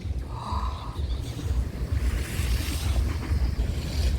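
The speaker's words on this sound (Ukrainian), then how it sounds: "які хвилі" Storm surf crashes onto Lanzheron beach in Odesa after a night storm, heavy waves breaking and rushing in close by with steady roaring wash and gusty wind buffeting the microphone throughout.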